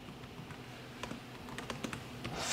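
Several quiet, scattered keystrokes tapped on a computer keyboard while entering text in sign-design software, spaced irregularly with a slight build at the end, no talking.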